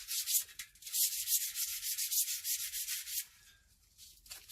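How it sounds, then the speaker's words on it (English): Rust being sanded from inside a moped wheel with 180 grit sandpaper: rapid back-and-forth rasping strokes, close and steady for about three seconds, then quieter lighter rubbing. "need to sand the inside of the wheel a little because it had rust inside."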